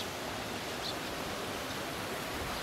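Water pours steadily through the spillway of a temple pond dam in April, a constant close rushing wash with no pauses and no voices.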